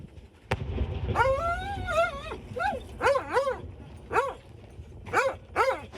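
Dozens of dogs, around 80 to 100, bark and yelp in quick bursts, some with whining, rising tones, fairly close and loud over a noisy background during shelling.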